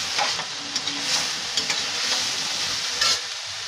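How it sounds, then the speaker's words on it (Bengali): Cauliflower and potato, steamed first and then fried in a pan, sizzle steadily up close, with occasional scraping stirs and bursts of crackling. "আর এদিকে বসিয়েছি ফুলকপি আলু ভাজা"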